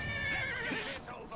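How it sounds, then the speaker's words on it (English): A horse in the video game Oblivion whinnies in a long, wavering neigh, fairly close, with a muffled rumble and faint voices behind it. "This horse is gonna wind up dying."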